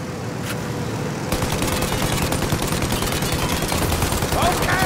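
Rapid bursts of gunfire in the video game Mafia I Definitive Edition rattle continuously after a brief pause, loud and dense, with faint voices mixed underneath.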